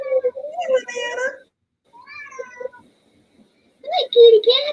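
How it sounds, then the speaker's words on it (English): A cat meows several times up close, with drawn-out, wavering calls that come in three bursts separated by short silences and grow louder toward the end. "I saw the shape of a cat somewhere."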